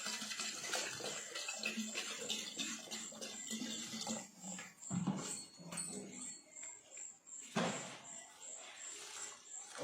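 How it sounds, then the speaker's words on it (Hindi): Ganges water is poured into a ritual mixture of cow urine and liquor, a soft, faint trickle and splash that comes and goes at low level. "अब डाले हैं हम गंगा जल।"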